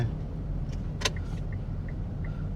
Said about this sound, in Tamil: செம்ம டிராஃபிக்காக இருக்குங்க